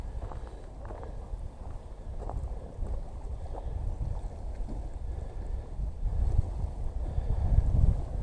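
Cold wind blowing across an open jetty, a steady broad rumble and buffeting on the microphone that grows gustier and louder toward the end, with faint footsteps mixed in.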